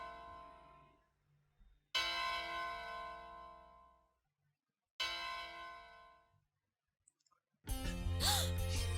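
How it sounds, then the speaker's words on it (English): In the video game Soul Nomad, Lady Lena's summoning bell rings out in two separate resonant strikes that each ring on and fade away. A brighter, noisier chime follows near the end, and there are no voices. "Lady Lena's summoning bell."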